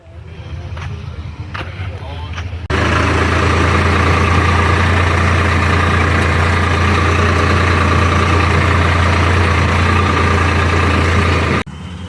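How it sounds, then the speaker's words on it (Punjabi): A heavy combine harvester engine starts up and runs loud and steady at a low rumble for several seconds during wheat harvest, then cuts off abruptly; quieter machinery sounds before it. "ਕਰੋ ਚੈੱਕ ਪ੍ਰੀਤ ਵਾਲਿਆਂ ਦੀ ਕੰਬਾਈਨ ਆ"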